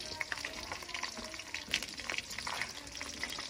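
Masala fish frying in a kadai gives a steady crackling sizzle of hot oil, with scattered sharper pops and a few bubbling spatters, close and moderately loud with no talk.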